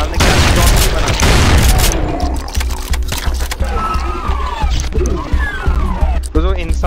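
Rapid gunfire and booming blasts from the video game Brutal Doom, dense and loud at the start, then scattered shots and explosions continue while someone speaks over them.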